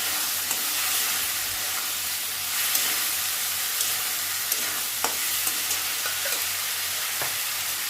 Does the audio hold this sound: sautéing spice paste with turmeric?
yes